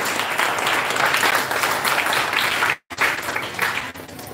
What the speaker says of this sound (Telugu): సో మనం కూడా గట్టిగా క్లాప్స్ కొట్టారు